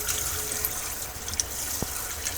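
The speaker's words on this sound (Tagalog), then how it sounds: "Hugasan ko yung chicken" Raw chicken being washed under a running kitchen tap while cooking ginataang sitaw: a steady splashing, hissing stream of water with a small knock partway through, close and continuous, without talk.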